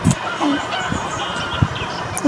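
A village hen clucking nearby in short, separate low clucks spaced irregularly over a quiet outdoor background, with faint rustling and no clear speech.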